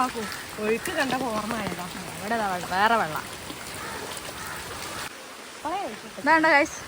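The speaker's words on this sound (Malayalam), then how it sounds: "നല്ല മഴയില്ല നല്ല രസമില്ല കാണാൻ" Steady rain hisses in the background while people talk nearby in bursts of speech.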